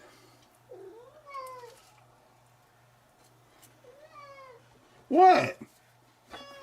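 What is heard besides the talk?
cat meowing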